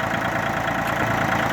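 A Japanese Iseki Land Hope 245 (TU245) 4WD tractor idles outdoors in minus 32 degree cold, its engine a steady, continuous low rumble with a faint knocking texture, close and unbroken.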